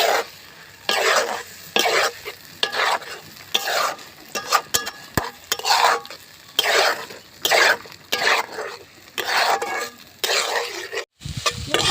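Eggs frying in a pan with salt and turmeric, stirred vigorously in repeated scraping strokes over a constant sizzle, close and loud, with a brief throat-clearing sound in the middle.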